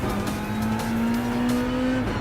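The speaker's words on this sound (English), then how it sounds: "Now let's go and overtake all the cars." Race cars in the video game Gran Turismo Sport roar steadily throughout, a sustained engine whine slowly climbing in pitch, with hints of tire squeal over continuous track noise.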